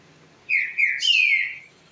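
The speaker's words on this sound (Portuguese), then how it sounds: "Como saber a hora certa que meu trinca-ferro vai cantar?" A green-winged saltator (trinca-ferro) sings a short, clear whistled phrase of a few sliding notes, loud and close against a quiet background.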